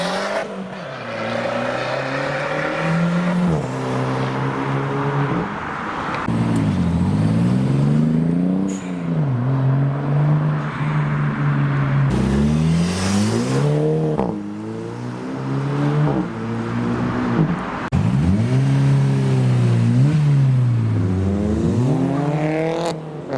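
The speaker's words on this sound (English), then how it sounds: "And the black MX-5 is back around next to the 350Z, so flyby" A black Mazda MX-5 and a Nissan 350Z drive past in turn, engines rising and falling as each car approaches and recedes, loud and close with repeated revving sweeps and no talking.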